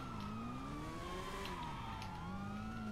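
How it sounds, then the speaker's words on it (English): Police sirens wail in Grand Theft Auto V, a steady sweeping tone rising and falling continuously, heard alone and at moderate distance. "I hear sirens! I have cops!"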